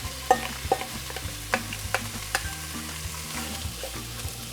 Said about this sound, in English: we're going to add our onions and beets to that and saute them until the onions get tender